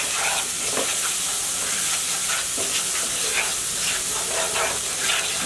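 Spice paste with ginger and garlic, salt, chili powder and turmeric fries in oil for olive pickle, giving a steady, close sizzle with soft stirring scrapes throughout and no voices.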